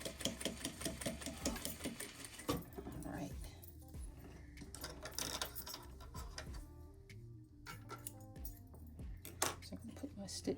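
A sewing machine runs in bursts while stitching a zippered pouch, its rapid clattering needle rhythm starting and stopping close by, with a person talking quietly over and between the runs.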